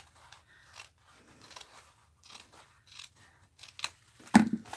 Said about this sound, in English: Tim Holtz scissors are going to do the trick on this because they're getting dull.